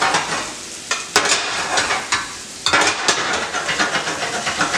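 Shrimp for fettuccine alfredo sizzle and fry in a pan, a loud steady crackle broken by repeated scraping stirs of a utensil against the pan.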